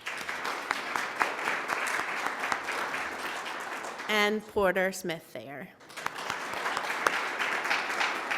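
Steady applause from a church congregation, moderately close, continuing under a voice reading names, with a brief pause in the clapping while he speaks before it resumes.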